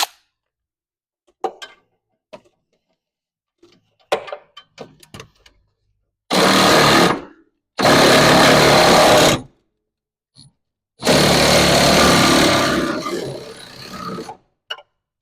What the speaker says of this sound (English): I can also crank down the compressor a little further.